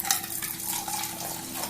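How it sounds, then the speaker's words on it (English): Coffee being poured, played within a perception lecture, comes through as a steady splashing liquid stream with a bright, hissy wash, continuous and fairly close for under two seconds. "And this says pouring coffee."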